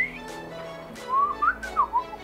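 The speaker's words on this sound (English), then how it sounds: "I have like a solid, really loud whistle." A person whistles loudly and clearly, starting with a high held note and then a sliding melodic run of rising and falling pitches, close and alone.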